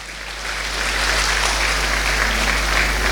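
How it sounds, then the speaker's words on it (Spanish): A church congregation applauds after a sermon, a dense steady wash of many hands clapping that swells within the first second and holds loud and even throughout. "Yo quiero que le demos un fuerte aplauso al Señor por esta palabra tan hermosa."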